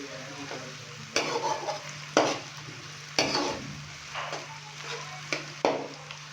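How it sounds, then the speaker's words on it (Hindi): Chopped tomatoes stirred and fried in a pot for Bannu beef pulao, with a spoon scraping in several sharp bursts over a steady low sizzle and hum. "टमाटर डालने के बाद अच्छे से हम इसको मिक्स करेंगे"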